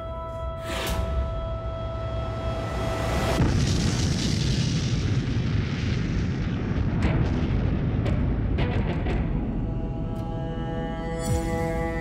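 Atomic bomb Little Boy detonating, a sustained deep rumbling roar that swells after a sharp onset and rolls on continuously, with scattered crackling bursts riding over the low blast noise.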